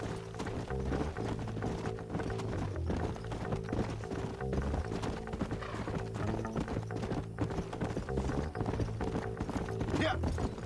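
Steady clip-clop of horse hooves at a walking pace in Red Dead Redemption 2, continuous and fairly close, over a low musical drone with a brief whinny near the end.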